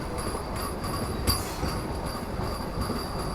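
A MEMU passenger train running between Tirupati and Tiruvannamalai, heard from on board as a steady rumble of wheels on rails with faint rhythmic clatter and one sharp knock.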